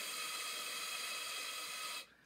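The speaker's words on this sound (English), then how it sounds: "So there's no vibration, but you can still hear air moving through." Breath pushed through a brass instrument mouthpiece with no lip buzz, a steady soft airy hiss lasting about two seconds before cutting off.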